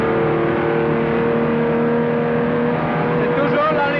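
A 1962 Aston Martin DB4 GT races flat out on the Masta straight at Spa, its engine a loud, steady high-revving drone heard onboard, with a narrated voice over it.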